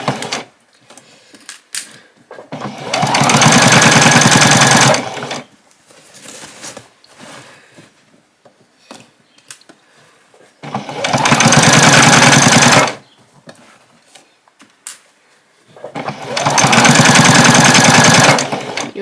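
A sewing machine stitches apron fabric in three loud bursts of rapid, even needle chatter, each lasting a few seconds, separated by quiet pauses with faint handling sounds.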